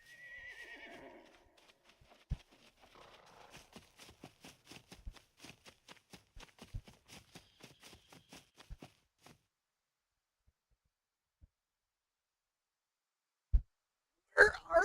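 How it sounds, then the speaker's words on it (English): A horse in the survival video game SCUM gives a brief whinny at the start, followed by a long run of irregular hoof clip-clops that thin out into scattered thuds, faint with sharp knocks at the end. "I hear the horse."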